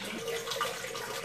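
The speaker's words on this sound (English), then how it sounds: "Let's go ahead and fill the tank up." Steady running water from a hose filling an aquarium tank during a water change, a continuous even hiss and splash with no talking.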